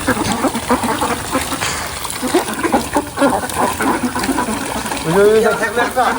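A flock of ducks quacks on a duck farm, a dense, loud chorus of overlapping calls with water splashing, continuous throughout and close to the listener.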